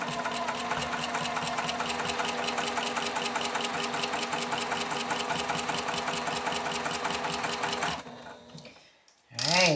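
A sewing machine stitches a quilt block in a fast, even run of needle strokes for about eight seconds, then stops abruptly, leaving near silence before a short final burst.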